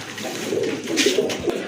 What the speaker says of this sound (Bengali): মাশাল্লাহ সুন্দর আরেক জোড়া কবুতর রাজগোল্লা কবুতর